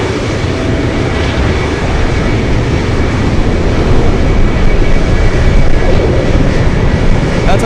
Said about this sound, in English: Taking the shortcut, we have a medical exec jet.